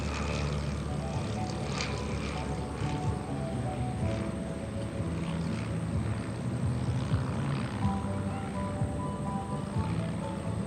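A propeller plane drones steadily overhead at an airshow, a constant mid-distance engine hum with no break.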